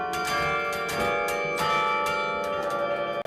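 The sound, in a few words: carillon bells ringing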